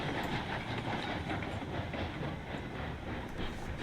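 A steam locomotive in the railroad simulation game Railroads Online rolls slowly along the track, a steady rumbling clatter of wheels and cars at a constant level, no voices.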